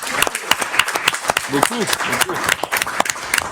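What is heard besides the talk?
audience applause at a council meeting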